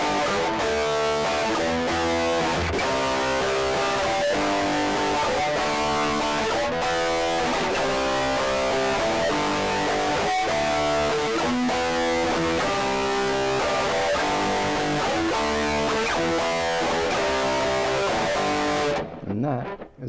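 Distorted electric guitar plays a four-chord power chord progression, strummed in a steady driving rhythm, loud and continuous, before ringing off at the end.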